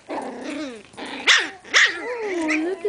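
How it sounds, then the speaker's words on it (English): Miniature pinscher puppies yip and bark up close in a quick run of sharp, high, whiny barks, some stretched into short squeals, with little pause between them. "Oh, look at the puppies."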